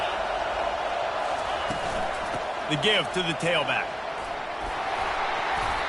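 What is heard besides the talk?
football stadium crowd noise rising on third down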